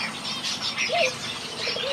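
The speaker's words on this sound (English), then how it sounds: "The white-rumped munia or white-rumped manakin, Lonca striata, sometimes called striated finch in aviculture, is a small passerine bird" White-rumped munias and other small finches chirp in a large aviary, with brief high calls and short rising notes over a steady bed of soft background chatter.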